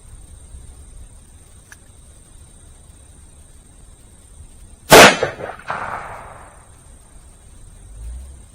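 A single .44 Magnum shot fires a 200 grain XTP reload over 27 grains of H110. It is one sharp, loud crack with a short ringing tail, set against a quiet outdoor background.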